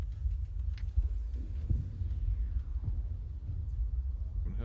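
Slow, steady heartbeat thumps pulse low and soft in the background of The Elder Scrolls Online, a muffled rhythmic throb continuing with no talk over it.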